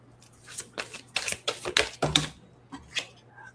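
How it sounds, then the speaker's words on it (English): Tarot cards being shuffled by hand, a run of close, papery riffling bursts in an uneven rhythm. "As I loudly shuffle."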